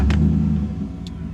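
Truck engine idling nearby, a loud low rumble with a brief rev that settles to a steadier drone, no talk.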